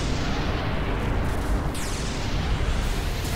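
A sustained roaring blast from a Final Fantasy X battle rumbles loud and dense, with a sweeping whoosh through the middle and no talking.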